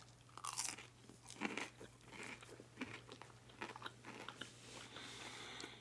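Close, crisp bites and crunching chews on Burger King onion rings, a series of crackly crunches spaced irregularly and heard alone against a faint low hum.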